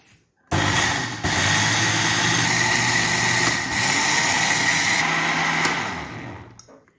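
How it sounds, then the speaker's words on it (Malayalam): A mixer grinder whirs loudly and steadily for several seconds, blending neyyappam batter with jaggery syrup, its motor droning with brief shifts in pitch, then winds down. "ഇനി നമുക്കിതൊന്ന് അടിച്ചെടുക്കാം"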